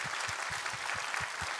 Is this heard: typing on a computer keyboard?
no